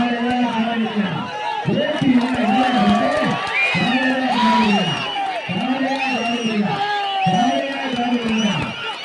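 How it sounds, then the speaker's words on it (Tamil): Loud, dense crowd cheering and whooping at a manjuvirattu bull-taming event at Arittapatti, with shouts rising and falling in repeated waves throughout. "ஆரவாரம் செய்யப்படுகிறது"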